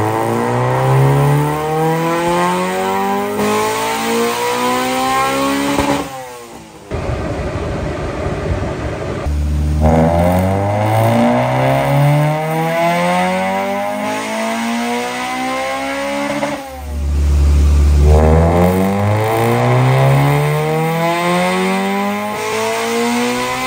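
Honda Civic with a B18C Type R engine revving hard and climbing through the VTEC changeover, loud repeated rising sweeps with brief lifts between pulls and no talk.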